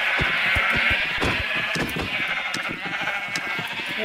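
Sheep bleat in Minecraft on a multiplayer server, several overlapping calls heard steadily amid clicking game noise and a constant hiss, fairly loud throughout with no talking.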